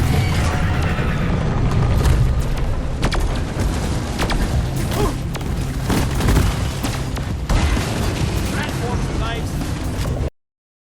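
Plasma burster explosions and gunfire in the video game Deep Rock Galactic, loud booming blasts and sharp bursts over a dense rumbling game din, with a voice talking over it, ending abruptly.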